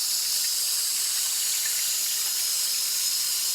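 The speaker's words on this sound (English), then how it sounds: "I'm gonna drain it out." Water drains steadily out of a kitchen pot of washed potatoes, a continuous hissing splash at close range with no pauses, and no voices.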